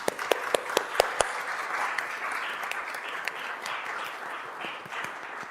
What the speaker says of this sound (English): So if we could just give them a round of applause really quickly.